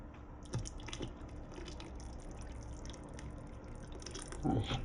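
Water from a kettle pours into a plant-based bolognese pasta sauce on a dorm stove, making a soft, continuous trickle with faint wet splashes and a brief louder gurgle near the end.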